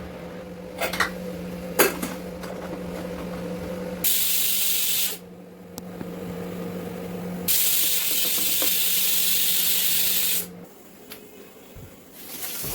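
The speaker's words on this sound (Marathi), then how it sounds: "आता मी कुकरच्या शिट्ट्या करून घेणार" A pressure cooker whistle blasts loud hissing bursts of steam in repeated spells, each lasting a second or more, with a low hum and quieter gaps between.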